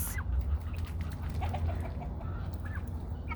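Guinea fowl attack female turkeys on a small farm, giving scattered harsh squawks and clucks at moderate distance over a low steady background hum.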